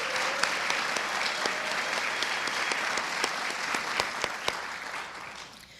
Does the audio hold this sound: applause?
yes